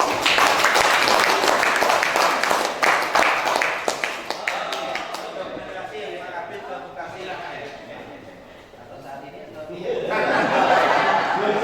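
An audience at a teachers' training gathering breaks into applause, the dense clapping strong at first and then fading, with laughter and chatter mixed in. A second burst of clapping rises near the end.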